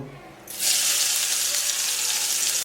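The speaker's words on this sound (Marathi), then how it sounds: "आता तेल गरम झालंय आता ही बारीक केलेलं वाटण घालू" After a quiet moment, a loud burst of sizzling erupts as spice paste hits hot oil, then holds as a strong, steady crackling hiss.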